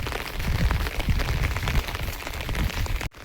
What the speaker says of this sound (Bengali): আজ বছরের সেরা বৃষ্টি